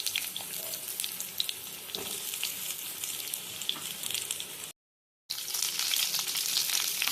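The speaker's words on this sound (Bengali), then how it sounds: "এরপর কড়াইতে দিয়ে দেওয়া হচ্ছে কেটে রাখা আলু" Cut potatoes fry in hot oil in a kadai with a dense, continuous crackling sizzle. It breaks off briefly, then resumes just as loud with scattered pops.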